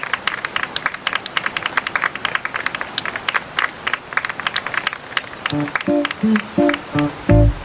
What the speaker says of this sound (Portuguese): Nem precisava aplaudir no final.